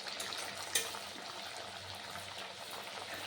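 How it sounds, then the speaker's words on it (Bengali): Green pea kachuri drop into hot oil and fry with a soft, steady sizzle and bubbling hiss, faint and continuous, with one brief clink near the start. "এবার আমি ভালো করে তেল গরম করে একটা একটা করে কচুরি কিন্তু ছেড়ে"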